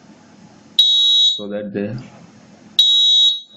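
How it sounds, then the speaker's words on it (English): A homemade fire alarm robot sounds two loud, steady high-pitched electronic tones, each lasting about half a second, its pitch raised by heat on its sensor, with a short stretch of speech between the blasts. "So you can see that now the alarm sound frequency has increased."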